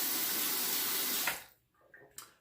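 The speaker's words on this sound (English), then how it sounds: "Let me wet the razor." A bathroom tap runs steadily for over a second while a razor is wet under the stream, then the flow cuts off, leaving faint drips and small rattles of the razor.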